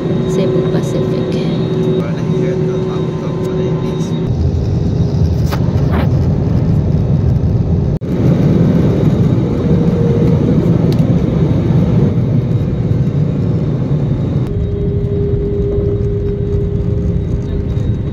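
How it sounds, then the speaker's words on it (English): Cebu Pacific airplane taking off from Incheon Airport, heard from inside the cabin as a loud, continuous roar of engines and rushing air that holds steady for the whole stretch. "So we are ready to take off now from Incheon Airport going to Philippines."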